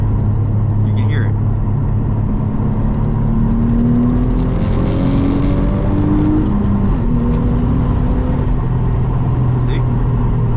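A Nissan Altima with a VQ engine and new intake and exhaust accelerates after a downshift, heard from inside the car as a loud, steady engine drone with rising tones, while a person talks over it.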